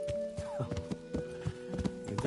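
Horse hooves clip-clopping in an uneven walking rhythm, close by, with a steady tonal hum in the background, from the video game Kingdom Come: Deliverance.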